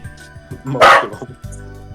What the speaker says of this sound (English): Tell your dog to stop.